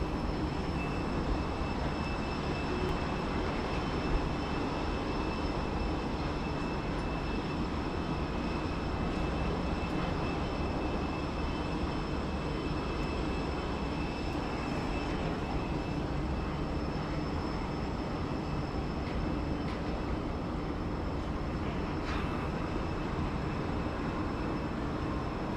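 Virgin Australia Boeing 737-800 at Sydney Airport, a steady, continuous broadband engine roar with a faint high whine, holding fairly even in level throughout with no talk.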